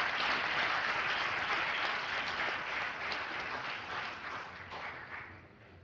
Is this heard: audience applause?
yes